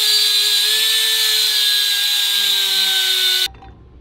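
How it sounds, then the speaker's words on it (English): A Dremel rotary tool grinds a motorcycle wheel part for an Indian Scout rear tire install, a loud steady high-pitched whine held close for over three seconds before it cuts off abruptly. "so we have to get a Dremel real quick"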